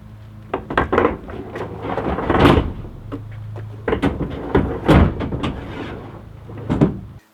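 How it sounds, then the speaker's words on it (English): Decked drawer sliding into a pickup truck drawer system, with repeated knocks and bumps as it is worked in, a low rumble running underneath. "it's time to put a drawer in"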